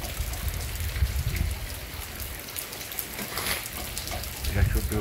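Rain falls on a Good Friday morning in Santana do Ipanema, Brazil, a steady patter and trickle of drops on surfaces, fairly close, with a light morning breeze.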